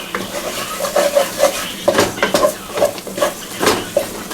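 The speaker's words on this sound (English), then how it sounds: "You got to keep stirring that stuff because you don't want it sticking and burning to the bottom." Roux for a shrimp stew is stirred in a hot pot: rhythmic scraping strokes of the utensil against the bottom, close and clear over a steady background sizzle.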